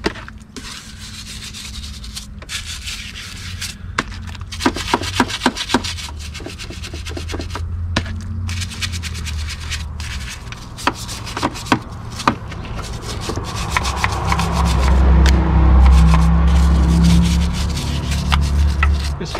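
An aluminum Corvette TPI intake plenum being scrubbed with dish soap: close, continuous rubbing and scouring with scattered sharp knocks and clicks, growing slightly louder and fuller toward the end.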